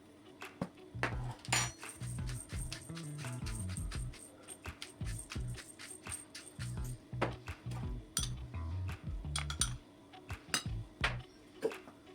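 A utensil scrapes and knocks against a bowl in uneven strokes as a thick fish mince mixture with starch is stirred, with occasional metallic clinks, close and quiet.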